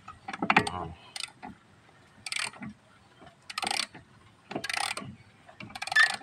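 Ratchet wrench clicks in repeated bursts as lug nuts are tightened while a tire is mounted on a jacked-up vehicle, each close, brisk run of ratcheting separated by short pauses.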